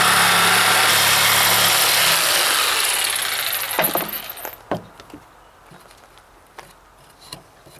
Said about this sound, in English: the rest of this I'll cut with my jigsaw